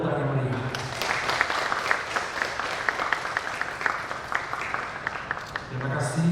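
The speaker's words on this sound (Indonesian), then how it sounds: "Sambutlah mereka berdua dengan tepuk tangan yang meriah." Wedding guests at a holy matrimony ceremony applaud the newlyweds, a sustained burst of clapping that holds steady at moderate loudness for several seconds before tapering off.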